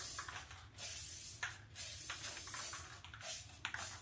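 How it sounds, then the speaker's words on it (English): Rust-Oleum Sea Mist metallic spray paint hisses from a can in several bursts over plastic sheeting, with short pauses between sprays and no talking. "I'm going to spray sea mist across this."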